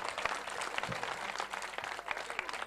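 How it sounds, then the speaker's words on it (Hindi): Audience applause at a devotional bhajan program, a steady wash of many hands clapping together, dense and sustained without a break. "तो वो जरा जोरदार तालियां बजाएंगे।"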